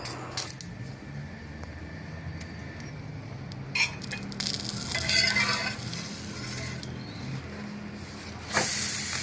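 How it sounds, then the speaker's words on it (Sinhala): A finger millet roti roasts on a hot pan lined with banana leaf, giving a soft, steady sizzle and faint crackle with occasional light scrapes and taps. "දැන් අපි කුරක්කන් රොටිය තමයි පුච්ච ගන්න. ඒක තැටියට තියලා කෙහෙල් කොලේ තියන තැටි උඩින් මේ විදිහට."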